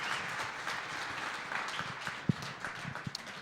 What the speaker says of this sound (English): how about a big round of applause for the Bullet